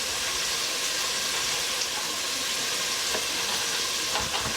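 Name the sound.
bacon sizzling as it renders in a pan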